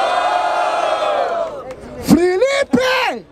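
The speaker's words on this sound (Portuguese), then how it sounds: "Barulho para as rimas do Mota" A crowd at an outdoor rap battle in Barueri, São Paulo, yells in loud sustained unison, then lets out rising and falling whoops and shouts in quick bursts.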